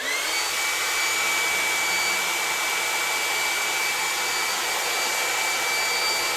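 A heat gun blowing hot air over a waxed, textured woodturning coloured with rainbow wax and glue, a loud steady roaring whoosh with a thin high whine running throughout, alone without talk.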